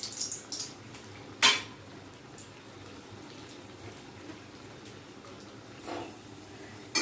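Potato chops fry in oil over a medium gas flame, producing a faint, steady sizzling hiss. A few sharp utensil clinks break through near the start, around the middle and at the end, and no one speaks.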